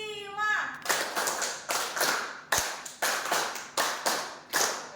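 Scout-style rhythmic clapping by a school group, two rounds of a five-clap pattern, sharp unison claps in a repeating clustered rhythm, with a short sung or spoken lead-in at the start and one dull thump mid-sequence.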